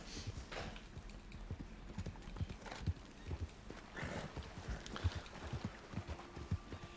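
Hooves clip-clop at a steady walking rhythm from a horse in Red Dead Online, fairly quiet and close, with scattered faint clicks around it and no talking.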